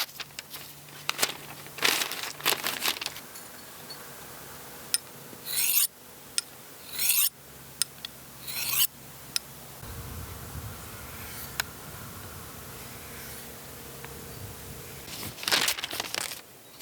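A TOPS Silent Hero knife blade being sharpened gives scattered rasping strokes and scrapes, some short and sharp, others longer, close and fairly quiet with pauses and a faint low hum underneath.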